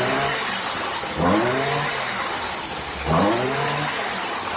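A Stihl FS string trimmer with a ZAMA C1M-S267A carburetor revs at high throttle, close and loud, its engine note dipping and surging twice over a few seconds.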